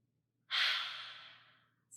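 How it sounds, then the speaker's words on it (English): One deep, forceful breath during a children's dragon breathing exercise, close and airy, rising sharply and then fading over about a second in otherwise quiet surroundings. "we put our hands up by our mouth and we breathed in real deep"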